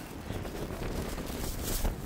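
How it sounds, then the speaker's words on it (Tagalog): Gusty wind buffeting a microphone outdoors near a car after a grocery trip, a steady broadband rumble with a louder gust near the end, no talking. "Medyo mahangin, oh."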